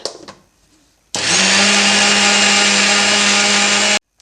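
A mixer grinder whirs loudly and steadily for about three seconds while grinding peanut chutney powder, starting abruptly after a quiet moment and cutting off sharply.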